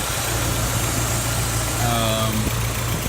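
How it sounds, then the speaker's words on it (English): A Mk3 Volkswagen Jetta idles after a radiator hose install and coolant fill, giving a steady, even low hum for the whole stretch with no change in pace; a faint thin tone rises briefly near the end. "as you can see, the car's on"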